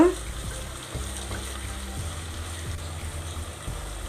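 Onion, green chilli and curry leaves frying in hot oil for a fish curry give a steady, close hiss with faint periodic taps from stirring. No one speaks.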